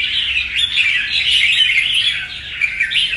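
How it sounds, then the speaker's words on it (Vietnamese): A wild-caught lead songbird from the Lạng Sơn limestone mountains sings close and loud, a continuous run of bright chirps and warbled phrases without pause, with no talking over it. "Chim này là của núi đá Lạng Sơn anh em nhé."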